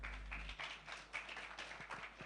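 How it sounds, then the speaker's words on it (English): Guests at an awards ceremony and anniversary dinner give scattered, faint applause in a large room, individual claps audible and uneven throughout. "Can Dr. Sudhir Ruparelia have another round of applause, please?"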